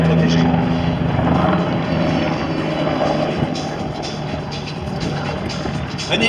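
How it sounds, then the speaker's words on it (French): Helicopter flying at an aerobatics world championship air show in Châteauroux, a steady rotor and engine roar holding loud and close throughout, with a faint murmur of voices beneath it. "sous surveillance évidemment de ces hélicoptères qui vont être là pour protéger"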